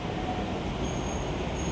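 A light rail train gives off a steady, continuous rumble of wheels and carriage noise at moderate loudness, with no speech over it.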